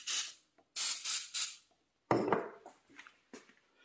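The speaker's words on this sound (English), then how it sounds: "I'm going to spray this down with a little bit of cooking spray" Several short, sharp hisses of cooking spray, three quick bursts then a pause before a few more sprays and faint clatter, close by.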